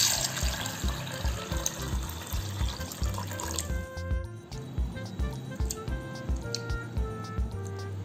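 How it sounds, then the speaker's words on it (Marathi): A cup of sago pearls is washed with water, sloshing and splashing in a bowl under running water with rhythmic swishes, fairly close, with no talk. "तो आता आपण 1-2 वेळेस पाण्याने स्वच्छ धुवून"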